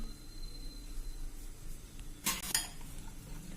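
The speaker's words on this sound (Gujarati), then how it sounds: "હવે આપણે આ બેટરને પણ 5 મિનિટ થઈ ગઈ છે અને એને આપણે સરખું મિક્સ કરી લઈશું" Khaman batter is mixed in a bowl, heard as a short burst of utensil clinks and scraping against the bowl over a quiet room background.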